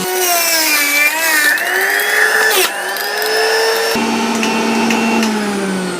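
A loud electric juicer whirs steadily as carrots are fed into it, with a high motor whine that shifts pitch under load, including a brief dip and a change in tone partway through.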